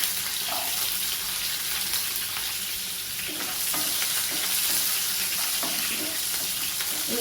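Mustard seeds, urad dal, cumin, curry leaves and onion frying in oil for sambar rice, a steady close sizzle with scraping stirs and faint crackles.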